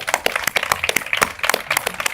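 A studio audience claps during a Spanish-language debate on Hispanidad, a short burst of dense, close applause with sharp, irregular hand claps.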